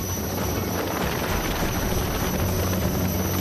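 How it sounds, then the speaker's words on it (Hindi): An Indian Air Force rescue helicopter flying over flooded villages, a loud, constant rotor and engine roar with heavy wind buffeting, dense and unbroken throughout. "आसमान में गड़गड़ाता वायुसेना का ये हेलीकॉप्टर मौत से जूझते लोगों के लिए जिंदगी का पैगाम है।"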